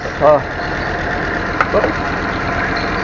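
A Willys CJ3A jeep engine idles steadily, a low even rumble running underneath the whole stretch, with a brief voice and small metallic clicks near the start and middle.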